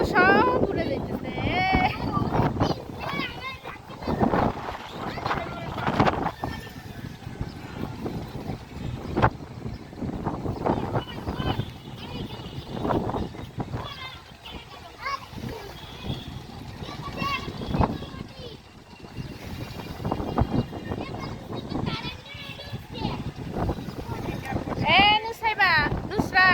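Strong wind gusting across a house rooftop on a hot day, rumbling against the microphone in uneven bursts while children and adults chat and play throughout.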